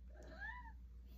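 A pet cat lets out a single short, faint meow nearby in a quiet indoor room.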